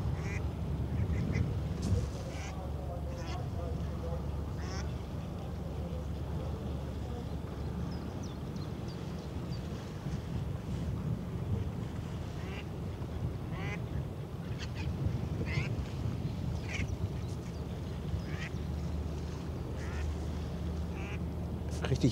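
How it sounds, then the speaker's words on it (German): Ducks quack repeatedly near the Dutch navy frigate HNLMS Evertsen as it moors, short scattered calls over a constant low rumble of harbour and ship noise. "Richtig Entenattacke hier."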